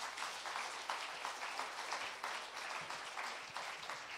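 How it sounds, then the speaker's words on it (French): A church congregation claps together at a Sunday worship service, producing a soft, steady wash of applause that stays fairly faint and distant throughout the short stretch. "Est-ce qu'on peut applaudir Jésus et lui dire un grand merci?"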